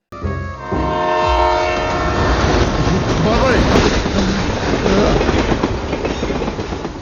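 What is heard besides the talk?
train passing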